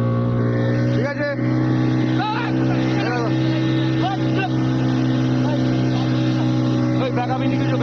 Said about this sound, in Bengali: দেখো আমরা যাচ্ছি বোট নিয়ে